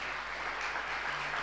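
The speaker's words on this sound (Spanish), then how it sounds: "Dele un fuerte aplauso al Rey de Gloria." Brief, steady applause from a church congregation at a Sunday service, an even wash of clapping with no pauses.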